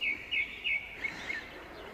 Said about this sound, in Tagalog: Huni siya ng huni.